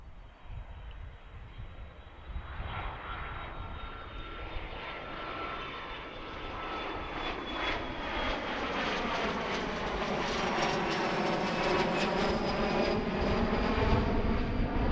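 An airliner at Allentown airport, rising from a distant rumble to a loud, close jet-engine roar with a whining tone and a swirling, phasing sweep as it passes, with no speech over it.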